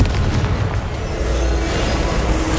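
A Confringo fire spell from a Harry Potter video game lets off a sustained, deep rumbling explosion. The loud, heavy boom rolls on without pause through the whole moment, and no voice is heard.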